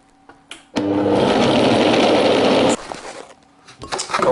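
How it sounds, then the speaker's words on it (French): An electric blender whirs loudly for about two seconds, mixing snail butter with anchovies and parsley, starting abruptly and stopping cleanly, with faint kitchen clatter before and after. "Et je vais mixer."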